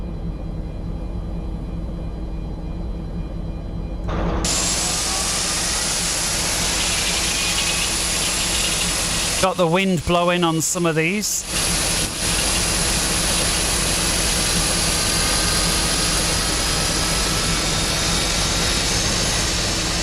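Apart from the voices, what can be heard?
Boeing 747 Classic jet engine number 3 starting up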